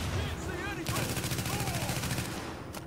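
Rapid automatic gunfire from the video game The Division rattles in quick repeated bursts, with a voice talking underneath at the start.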